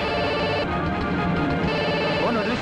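A telephone ringing in a tense dramatic film scene, a continuous electronic ringtone that is loud and close, layered over a dense background bed with no clear speech.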